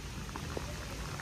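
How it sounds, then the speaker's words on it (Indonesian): Steady heavy rain hisses continuously with dense, even patter throughout the short stretch, no voices. "Ini hujannya deras ya"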